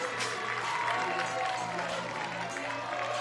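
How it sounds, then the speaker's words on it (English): Softball fans in the stands at a 3A state final cheer and clap in a steady crowd roar, with a commentator talking over the noise. "The fans in blue and cardinal making some noise here."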